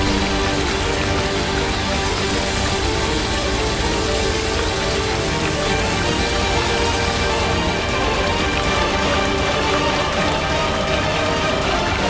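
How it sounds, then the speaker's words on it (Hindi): Heavy, steady rain pours down, a dense continuous hiss of drops drumming on surfaces with no pauses. "2 मिनट भी नहीं रुकी ये बारिश।"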